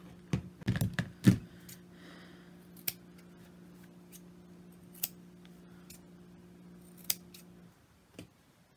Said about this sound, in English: I'm going to clip my corners, and these are reinforced corners because we reversed back and forth at all the corners, and I'm just going to clip right across them